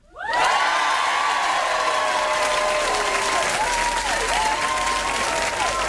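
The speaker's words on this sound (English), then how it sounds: "keep your applause going as we welcome on stage our first act" An audience at an Edinburgh Festival show bursts into loud applause and cheering that swells quickly and carries on, dense and sustained, with whoops and shouts over the clapping.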